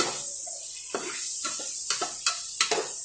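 A steady sizzle of food frying in a pan, broken by several scraping stirs that come more often toward the end. No voices.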